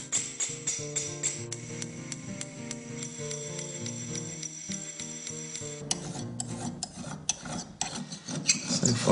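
An antique metal surface hand scraped flat, with crisp repeated rasping strokes at a steady pace close by, turning rougher and more irregular toward the end.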